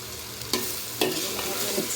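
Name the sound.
stirring chicken vegetable pasta in a pan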